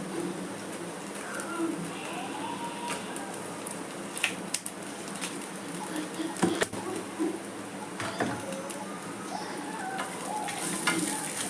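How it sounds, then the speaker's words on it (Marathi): Red chillies sizzle steadily as they fry in a pan for an Agri Koli style misal pav, a continuous close crackle with occasional stirring clicks and scrapes. "लाल मिरच्या टाकते मी याच्यात"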